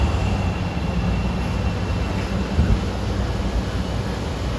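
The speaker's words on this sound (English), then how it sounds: "So here's a Linden-bound purple line train with an interesting consist." A Chicago CTA Purple Line train bound for Linden rolls past in the rain, a steady low rumble of wheels and cars holding even throughout, loud and close with no voices.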